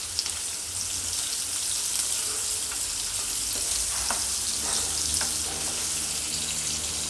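Finely chopped onions, two of them, fry in hot oil in a pan, a dense, even sizzle with occasional crackles and soft stirring, close and steady throughout without talking.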